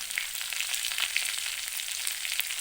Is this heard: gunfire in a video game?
no